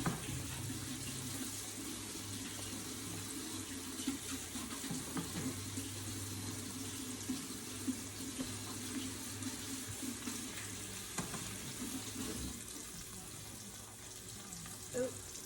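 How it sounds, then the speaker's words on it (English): Tap water runs steadily into a kitchen sink for hand washing while an egg-in-the-hole cooks in a skillet, a constant hiss with faint sizzling beneath. "when you wash your hands and you're dealing with such things, you want to make sure you clean your hands good"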